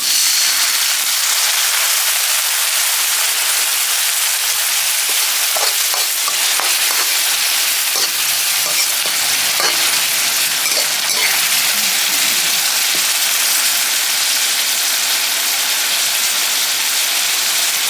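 Chilies and a splash of water hit a hot pan for Thai stir-fried holy basil with fried mackerel, giving a steady close sizzle with brief stirring scrapes and bubbling throughout, no voices.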